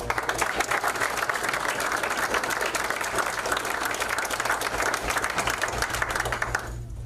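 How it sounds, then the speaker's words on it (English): Crowd at a high school senior athlete commitment day gives a sustained round of applause, dense and even clapping close by for several seconds before cutting off abruptly near the end. "Round of applause again."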